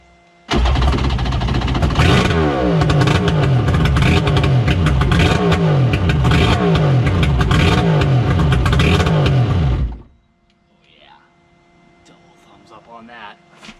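A 1200 triple-cylinder engine swapped into a purple-bottom Wave Raider watercraft revs loudly and continuously in repeated rising and falling pulls for about ten seconds, then cuts off, leaving faint background sound with some distant talk.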